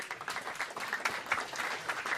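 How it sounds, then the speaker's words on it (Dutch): Audience applause at a live Dutch stage event, a steady wash of many hands clapping at moderate volume with no talk over it. "Applaus."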